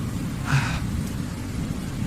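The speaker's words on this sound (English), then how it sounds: "Look, Mom, the heavy rain is starting to stop now." A thunderstorm with heavy rain drumming on a tent, a steady dense rumbling wash with low thunder-like roar throughout, close and continuous with no voices.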